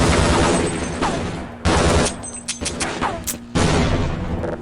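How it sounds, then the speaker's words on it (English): A grenade goes off in Half-Life: Blue Shift as one of several loud, abrupt blasts among bursts of gunfire, with short gaps between the hits during a firefight. "this apparently the slowest grenade possible killed me"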